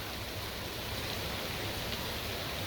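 Steady rain falling, a dense even hiss of drops that stays constant throughout, moderately loud and continuous, with no voices or other sounds above it.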